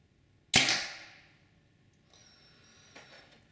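One arrow with a glue-tipped point strikes a target indoors with a single sharp, loud crack that rings and decays over about a second, followed by a faint whine and a soft knock.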